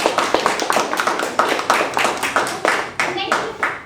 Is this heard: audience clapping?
yes